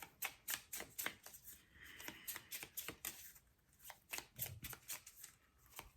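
Tarot cards shuffled by hand in a quick run of crisp riffling snaps and slides, soft and close, with no talking.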